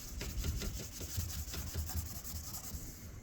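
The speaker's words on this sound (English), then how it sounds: "I still have to sand it down" Sandpaper rubbed back and forth over a surface to remove paint spots, a close, quick rhythmic scratching with evenly repeated strokes throughout.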